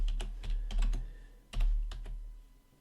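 Typing on a computer keyboard, a handful of close, crisp key clicks in small irregular clusters over a quiet background.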